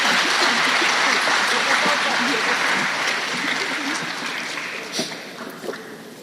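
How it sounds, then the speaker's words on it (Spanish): A nursing congress audience gives warm, sustained applause that fills the hall, then slowly thins out toward the end, with a few louder claps and faint voices underneath. "Les invito a recibirla con un cálido aplauso."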